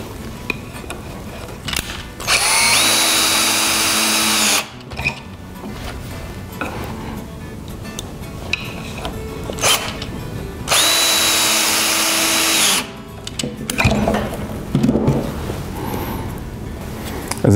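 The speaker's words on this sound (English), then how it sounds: "Now all I have to do is drive the screws." A power drill fitted with an extended square drive bit drives square drive screws into pocket holes, two loud sustained whirring bursts of a couple of seconds each, with quieter clunks and handling noises between them.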